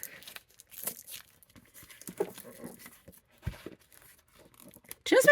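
Plastic packaging around a dessert-themed plushie crinkles and tears in scattered bursts, ending in a loud rip of crumpling plastic.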